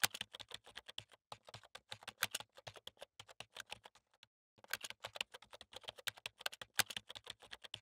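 Rapid clicking keystrokes on a computer keyboard while entering Python code, steady and close, with one short pause midway and no voices.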